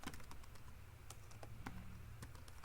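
Code is typed on a computer keyboard in quick, uneven keystrokes with soft clicks and occasional louder taps, faint and close, with no voices.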